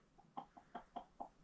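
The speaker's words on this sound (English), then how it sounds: "Chickens have been kept in the lower ground floor." Chickens kept on the lower ground floor of a building in a Cyprus mountain village, clucking in a quick run of about five short, soft calls, fairly quiet and a little distant.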